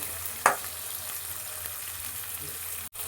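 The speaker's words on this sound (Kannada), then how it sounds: "ಫ್ರೈ ಮಾಡೋಣ." Onions frying in about two spoonfuls of oil while being cooked for mutton paaya soup, a steady close sizzle with a brief stirring clatter near the start.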